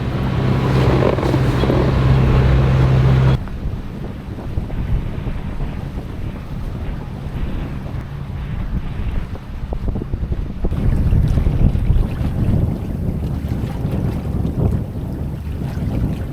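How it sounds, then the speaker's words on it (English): A sailboat motors in under engine power along the Arctic Norway coast with its sail down, a steady low rumble half buried under heavy wind buffeting and rushing water. "we decided to take the sail down and motor in for the last 2 miles"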